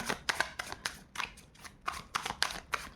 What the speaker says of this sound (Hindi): I will take one more card